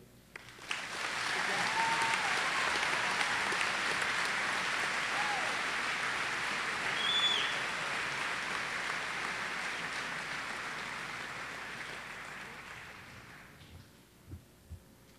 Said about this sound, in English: deserves to give yourself a sincere round of applause